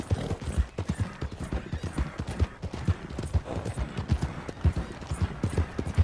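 Horse hooves clip-clop steadily in Red Dead Redemption 2, a close, even trotting rhythm of dull thuds that runs throughout with faint background sounds beneath.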